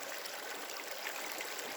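Water in a shallow stream rushes and trickles steadily close by, a bright continuous flow with small splashes as a bottle is dipped in to scoop it up.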